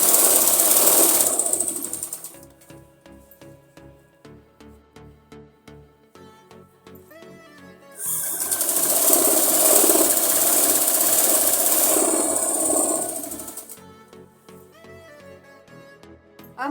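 A sewing machine stitches simple palazzo pants, running loud in two long bursts with a quieter stretch of slow, uneven clicking and motor pulses between them.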